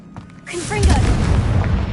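A Confringo explosion spell in Hogwarts Legacy bursts after a quiet lead-in, a booming blast with a rolling low rumble and bright crackling debris that sustains to the end.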